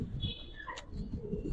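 Giribaz pigeon, a silver hen carrying eggs, gives a soft brief call amid low rumbling background noise and faint bird sounds, a short faint vocal rising through the middle of the moment.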